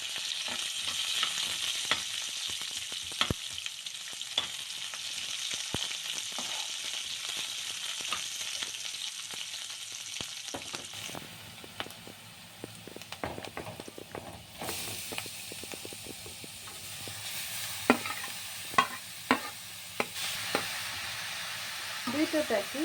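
Green chilli, curry leaves and onion sizzle in a pan for a beetroot palya, with a soft, steady frying hiss broken by scattered clinks and scrapes of stirring throughout.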